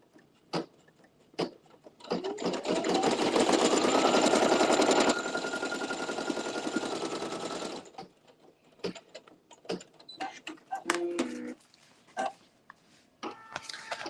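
A home embroidery machine stitches a design with a loud, fast mechanical hammering run of several seconds that rises in pitch, then falls to scattered clicks and short taps.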